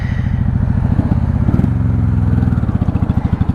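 A 1995 Honda Shadow VLX 600 (VT600CD) V-twin rides in first gear while its rider is running low on fuel, producing a loud, close, lumpy engine pulse that holds steady and turns a little more choppy toward the end.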